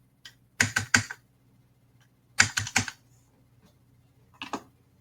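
Typing on a computer keyboard: three short bursts of quick, close key clicks separated by pauses, with no speech.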